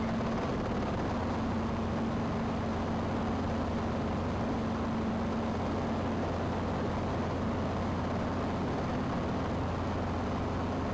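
Inside a helicopter flying a traffic pattern at North Andover, Massachusetts, a loud, unbroken rotor and engine roar with a steady low hum runs throughout, and no one speaks.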